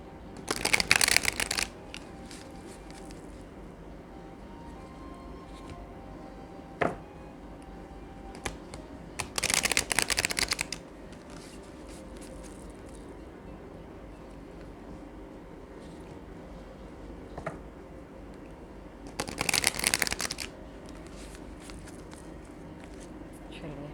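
Angel oracle cards being shuffled in three short riffling bursts spread apart, close and crisp against a quiet room background with soft handling noises between.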